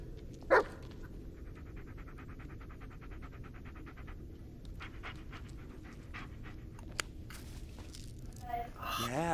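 A dog in the Blair Witch video game pants steadily through a run of rapid breaths, with a sharp yelp or whimper near the start and faint clicks and rustles in the background.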